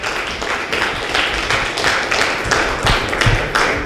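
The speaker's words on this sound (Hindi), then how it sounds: "राधा जी के लिए जोरदार तालियां" Loud, dense applause from a live audience at a Makar Sankranti festival event, a steady sustained wash of many hands clapping for a woman contestant, with no talking over it.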